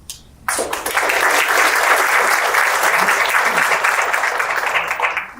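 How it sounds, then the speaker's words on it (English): An audience claps in a hall at a celebration of The Children's Assessment Center's 30th anniversary, loud dense applause that starts abruptly and holds steady before tapering. "you're clapping before I even get started"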